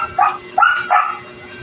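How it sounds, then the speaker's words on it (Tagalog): Dogs bark close by: three sharp, fairly loud barks come in quick succession, each tonal and slightly whiny, over a quiet background. "Ang vlogger na aso, nagsitawulan na."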